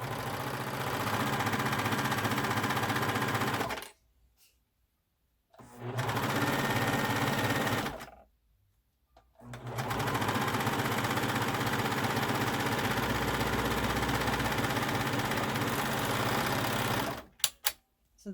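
A sewing machine stitches a teddy bear's leg in three loud, steady whirring bursts separated by short pauses, close up with no talking.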